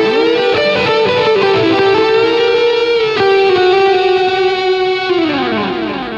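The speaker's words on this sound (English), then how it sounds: "our massive lead tone here on Snapshot 4." Heavily distorted electric guitar lead tone played through a Line 6 Helix LT with delay and gain, sustained notes and bends ringing loud and close with effects, and no talking over it.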